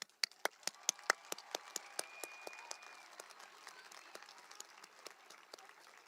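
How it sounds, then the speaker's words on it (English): A round of applause for junior honor students at a Yucaipa High School commencement builds from a few sharp, distinct claps into a soft, thin crowd patter, heard faintly at a distance. "Please join me in one last round of applause for our junior honor students."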